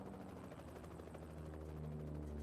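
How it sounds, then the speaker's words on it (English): A helicopter flies overhead in American Truck Simulator, giving a steady, dense whirring roar with a low rotor thrum that stays loud and even throughout, with no voices. "Helicopter flying around."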